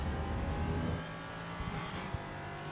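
Ligier JS P320 LMP3 prototype racing engine in iRacing at Oschersleben, a loud droning note that drops as the throttle eases, then settles into a steady, lower hum.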